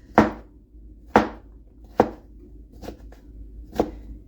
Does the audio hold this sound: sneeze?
no